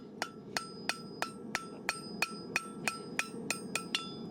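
Hammer striking hot steel on an anvil to draw out a handmade horseshoe at a farrier's forge: about a dozen sharp ringing blows in a steady, even rhythm, close and alone.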